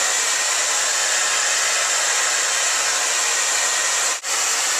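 A hair dryer blow-drying hair runs loud and steady at close range, a constant airy roar with one brief dip near the end, no voices.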